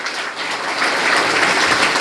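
Audience applause at a Busan civic coalition launch event, steady clapping from a crowd that swells slightly and continues throughout, with no talking over it.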